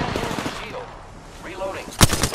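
Gunfire in a video game: a rapid burst of shots near the start, a quieter stretch, then a loud sharp cluster of shots at the end.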